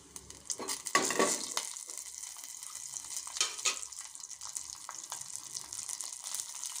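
Urad dal, two red chillies and mustard seeds crackle and sizzle in hot oil in a pan as a tempering, with a steady hiss and scattered pops, a few louder bursts, and no talking.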